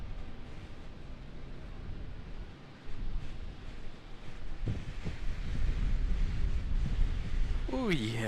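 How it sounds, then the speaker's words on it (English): Strong wind buffets the microphone during a storm at an airport plane-spotting location, a steady rough roar that grows louder in the second half, with a brief whine near the end. "the wind is picking up, you guys"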